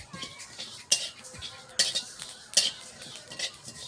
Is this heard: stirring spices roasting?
yes